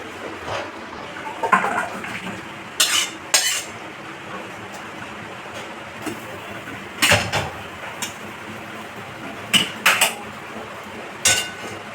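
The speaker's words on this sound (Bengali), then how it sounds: "কমপ্লিট, এবার ঢেলে নেব।" Egg and potato curry is tipped out of a cooking pan, with intermittent metallic clanks and scrapes of a utensil against the pan over a steady low kitchen background.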